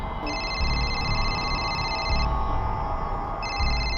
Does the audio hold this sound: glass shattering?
no